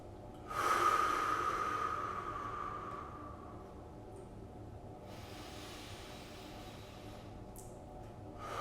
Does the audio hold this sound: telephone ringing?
no